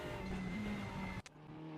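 An Opel touring car in the RaceRoom racing game runs a WTCC round at Brno, giving a steady engine drone that cuts out abruptly near the end, fairly quiet and with no talking.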